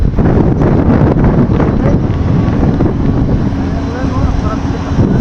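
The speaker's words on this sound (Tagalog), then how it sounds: "lakas ng tulak ng hangin" Strong wind roars and buffets the microphone in a constant, heavy rush of noise, aboard a wide ship, LCT Felicity 6, with rain falling.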